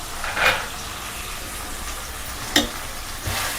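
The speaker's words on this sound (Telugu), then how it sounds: "అదిగోండి వేగుతుంది కదా" Dried fish and cucumber curry sizzles and fries in a pan, a steady crackling hiss close by with a few brief louder spits and stirring scrapes, no talk.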